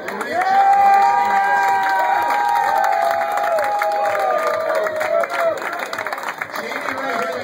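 A crowd at a tournament awards ceremony cheers and applauds the hosts, with loud sustained clapping and shouting. Tonal background sounds run through it.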